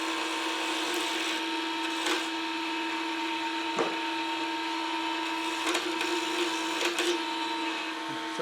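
A wood lathe spins at its maximum 3800 rpm with a key chain blank on a mandrel, giving a steady, even motor whine with a few faint ticks and no voices.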